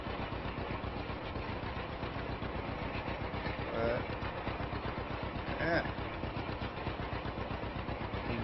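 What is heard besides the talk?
John Deere A tractor engine idling in Farming Simulator 25 video game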